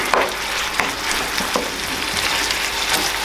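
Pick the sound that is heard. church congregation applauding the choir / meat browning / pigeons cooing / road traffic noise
meat browning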